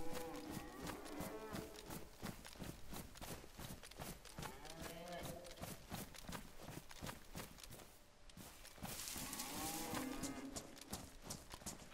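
Cows mooing among the zombie-cow livestock in the PS4 survival game DayZ, with repeated lowing calls over a busy game soundscape of steady rhythmic clatter and footsteps throughout.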